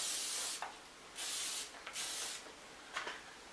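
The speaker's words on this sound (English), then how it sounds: "I have this Garnier Fructis Style Sleek and Finish 5-in-1 serum spray, and I'm going to spray this" Garnier Fructis Style Sleek and Finish 5-in-1 serum spray misted onto hair in three or four short, close hissing bursts separated by brief pauses, with no talking.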